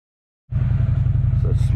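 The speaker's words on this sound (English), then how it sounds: "It's a smooth ride of the CF Moto." A CF Moto ZForce 800 EX side-by-side engine starts abruptly and rumbles steadily and loud at close range while driving through mud, with a pulsing low drone and faint higher noise above.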